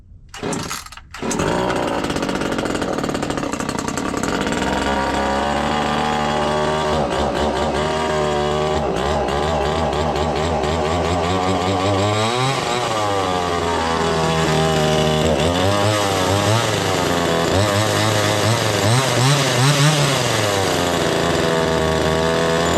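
A NeoTec NCS2500 gas chainsaw starts after a quick pull, then runs loud and close for the rest of the stretch. Its two-stroke engine whine rises and falls as the throttle is blipped and revved.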